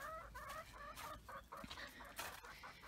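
Several backyard chickens cluck and chatter steadily in their run, a busy overlapping flock sound at moderate distance with no talking.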